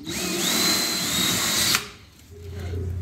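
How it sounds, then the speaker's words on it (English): A power drill with a 1/8 inch bit whines loudly at high speed for under two seconds while drilling a door pin switch hole in a 1966 Chevelle, then stops; a low motor hum follows near the end. "let me go get an 1/8 inch drill bit and we'll get this drilled out."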